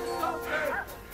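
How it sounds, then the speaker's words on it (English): Search dogs barking, a few yapping barks and a whine heard amid background noise and voices, brief and moderately distant. "They got dogs!"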